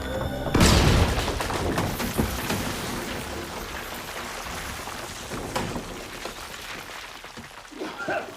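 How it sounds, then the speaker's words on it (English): A grenade explodes in an action war movie scene with a loud close boom, followed by a long crackling wash of falling debris that slowly fades with scattered rattles. "Grenade! Grenade! Take cover!"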